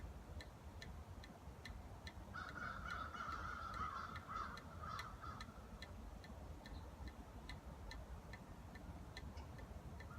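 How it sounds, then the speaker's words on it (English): Crows caw outdoors in a harsh run of calls, moderately distant, over steady wind or traffic rumble, with faint regular ticking in the background and no speech. "Sorry, the crows are..."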